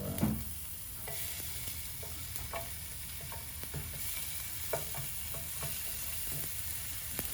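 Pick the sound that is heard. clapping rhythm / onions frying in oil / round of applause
onions frying in oil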